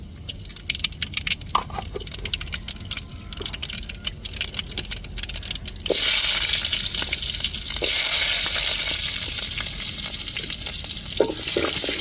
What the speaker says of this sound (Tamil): இப்போ கடுகு சேர்த்துக்கிறோம் தாளிப்புக்கு